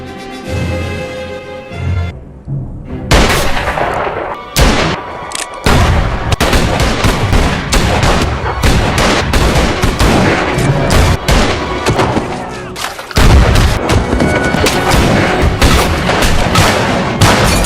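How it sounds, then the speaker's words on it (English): Brutal Western gunfight in the film Open Range, with dense, continuous gunfire: rapid overlapping shots, heavy booms and ricochet-like cracks, loud and relentless after a quieter musical lead-in, with a brief lull near the end before the shooting resumes. "A brutal gunfight erupts."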